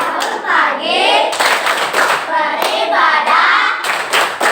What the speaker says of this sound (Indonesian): Coba tepuk anak hebat.